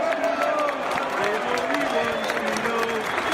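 Leeds United supporters chanting in memory of Gary Speed, a large crowd singing together in a steady, sustained roar with melodic rise and fall, loud and continuous throughout.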